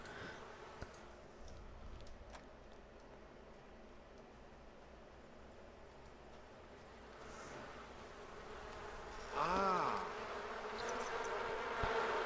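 Bees buzzing around a hive in The Sims 4, a soft continuous drone with scattered light clicks, swelling louder near the end as a closer, pitch-bending buzz passes by.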